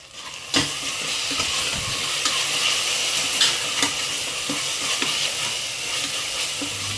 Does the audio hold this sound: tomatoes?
yes